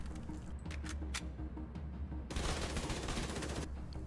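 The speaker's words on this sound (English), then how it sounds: "Submachine guns, a close range fully automatic weapon." Submachine gun automatic fire in The Division 2: a few sharp shots at first, then a dense fully automatic burst over a low rumble, loud and close, with no voices.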